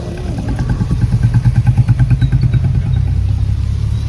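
A vehicle engine rumbles close and loud with a pulsing throb, riding inside an Eco minivan on the road to Gadhada.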